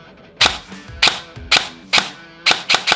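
An AK-style airsoft BB gun fires seven sharp, close pops: single shots at even intervals, then a quicker pair at the end, each crisp report standing out against a quiet background.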